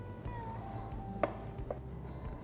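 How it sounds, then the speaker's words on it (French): A knife cuts a cheese-stuffed pork fillet in half on a board, giving two quiet, separate taps of the blade against the board over low room background. "on va couper en deux pour voir si notre cuisson est parfaite"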